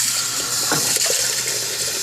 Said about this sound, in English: You may need to let your faucet run a little bit more.